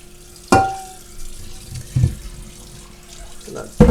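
Water runs from a tap over cooked noodles in a sink, with a few sharp knocks and splashes, close and fairly loud.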